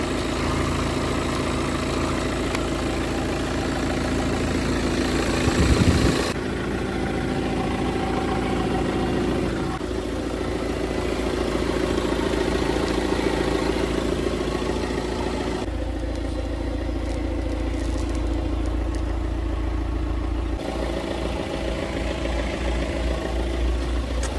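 A Volkswagen Tiguan engine idles steadily and evenly at close range, with a continuous low rumble and a faint mechanical clatter over the whole span, and no talk over it.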